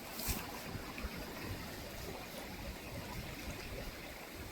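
A clear forest stream makes a faint, steady rush of flowing water with a few soft splashes, heard alone with no talking.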